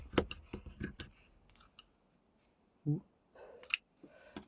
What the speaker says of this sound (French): Et là, je vais couper là.